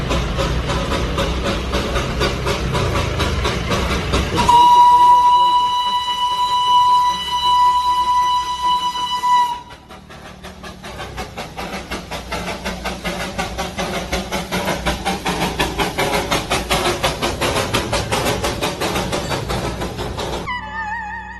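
A train at Darjeeling railway station: a sustained tonal whistle rings out for about five seconds, then a loud, pulsing, hissing engine chuff carries on steadily.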